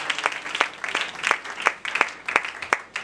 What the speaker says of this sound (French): Acclame-moi très fort.